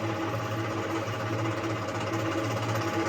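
An oil press screw runs in a garage with a steady, droning mechanical hum and a faint whine, constant and fairly close throughout, with no voices.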